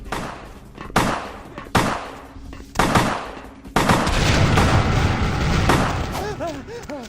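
Gunfire in the video game Vampire: The Masquerade - Bloodlines: four sharp, loud shots at roughly one-second intervals, followed by sustained heavy blasts and a roaring rumble with warbling tones near the end.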